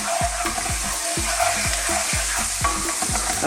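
Finely chopped garlic, about a teaspoon, sizzling in oil over fairly high heat, a dense continuous hiss close up with a regular series of soft knocking thumps running underneath.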